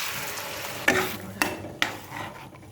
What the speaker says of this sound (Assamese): পানী ঢালি দিছোঁ।